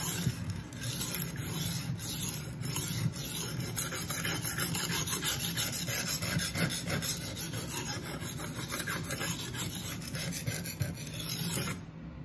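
A knife blade is drawn repeatedly across a Work Sharp guided sharpening system stone, making a continuous close rasping scrape in even back-and-forth strokes with no talking.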